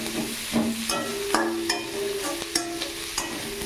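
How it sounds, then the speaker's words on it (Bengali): Chopped onions fry in a pan with a steady close sizzle, broken by repeated scraping stirs of a spoon against the pan. "এখানে পেঁয়াজ কুচিগুলো দিয়ে দিলাম, একেবারে পেঁয়াজগুলো দিয়ে একটু ভাজা ভাজা করে নেব।"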